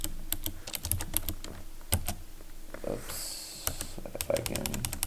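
Command-line text being typed on a computer keyboard, a quick close run of light clicking keystrokes with brief pauses, under a quiet voice.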